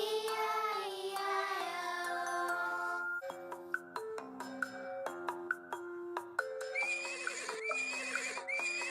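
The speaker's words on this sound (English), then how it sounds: "Horse." A horse whinnies loudly with a long, wavering neigh, followed by a series of short chiming tones and a second high, shaky whinny near the end.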